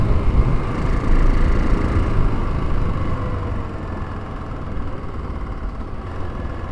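A motorcycle ridden over wet tarmac strewn with leaves in autumn gives a steady, fairly loud low engine drone mixed with road and wind rumble, constant throughout with no talking.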